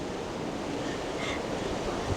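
A river runs swiftly beneath a boardwalk crossing on Lynchburg, Virginia's Riverwalk, giving a steady, continuous broadband rush of moving water that stays even and close throughout with no voices.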